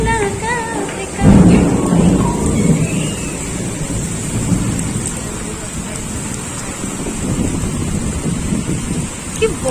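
Heavy rain and gusting wind roar steadily throughout, with a loud low rumble of thunder rolling in near the start; a voice is faintly audible under the storm.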